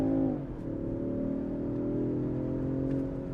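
A 2023 Range Rover Sport SUV accelerates hard in second gear, its engine holding a steady, rising drone with smooth tonal harmonics, heard from inside the cabin at moderate volume with no talk.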